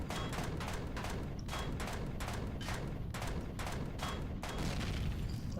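Sustained automatic gunfire from the Empyrion Galactic Survival game as a player shoots out the core of the Rados Defense Base, a dense steady burst of rapid shots running the whole time with no pauses.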